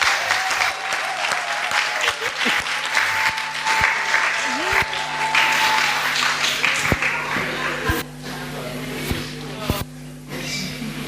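A church congregation claps and cheers, the applause dense and ragged with sharp individual claps and shouts, mixed with a sustained tone and a voice speaking over it.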